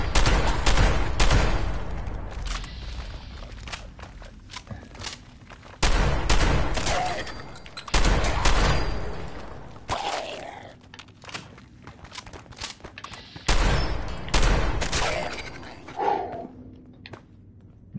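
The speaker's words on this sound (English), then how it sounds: "I had to shoot these from a distance now." Bursts of gunfire in a video game boss battle fired from a distance, with repeated loud volleys and clatter separated by short lulls, plus faint footsteps.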